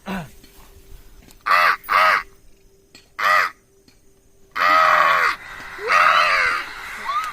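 A man mimics crow caws in loud repeated bursts, and real crows answer with raucous cawing outdoors, the calls coming in clustered bouts with short quiet gaps between them.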